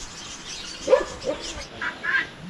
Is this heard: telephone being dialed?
no